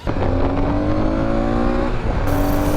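A Honda ST1300 Pan European motorcycle's V4 engine runs loud and close, holding a steady throaty drone with a slight rise in pitch before settling, with no talking.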